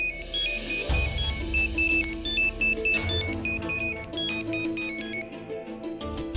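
A phone rings for an incoming call with a melodic electronic ringtone, bright chiming notes repeating in short phrases over a bass pattern, alone without voices.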